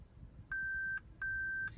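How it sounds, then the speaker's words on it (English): Two identical electronic parking-assist beeps from a 2017 Toyota Prius sound in quick succession while reversing, each a clear steady tone lasting about half a second, over a low engine rumble. "Not to mention this pretty extreme beeping"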